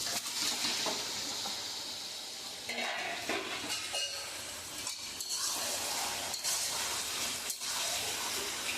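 Marinated chicken hits a pan of fried onion masala with a steady, loud sizzle, broken by a few scraping stirs and soft clinks of a spoon against the pan, continuous throughout with no talking.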